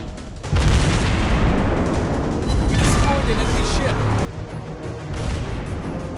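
A warship's gun salvo in World of Warships Blitz booms and rumbles loudly, sustained as a dense roar before dropping off abruptly, with a voice speaking over it.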